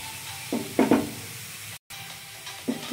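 Grated carrots cook slowly in a pan over a medium flame, giving a steady low sizzle with a few soft scraping stirs and a brief dropout partway through.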